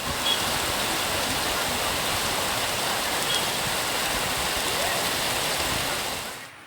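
Heavy rain pours down during a stormy downpour in Kalimpong, a dense, continuous hiss of drops drumming on surfaces at steady loudness, close and unbroken, with no voices, fading out at the very end.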